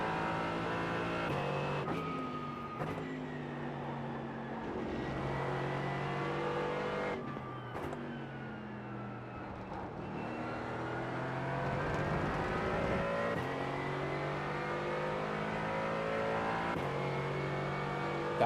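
A GT4 race car in the iRacing simulator at Road Atlanta drones through repeated revs, upshifts with brief cuts in power, and long pulls of acceleration, a steady close engine note with no talk over it.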